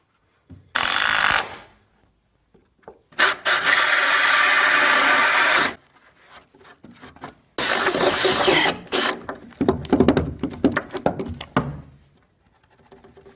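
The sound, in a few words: drilling wood with Forstner bit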